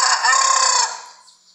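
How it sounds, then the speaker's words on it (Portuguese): A rooster crows at daybreak on a small country farm beside a misty reservoir, a single loud, drawn-out call that holds steady and then trails off and fades near the end. "O galo só cantando aí, galera."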